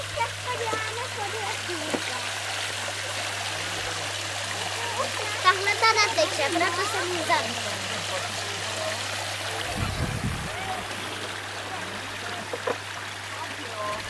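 Water runs and trickles steadily at a children's outdoor water playground, a constant splashing wash with brief splatters, while children's voices talk nearby.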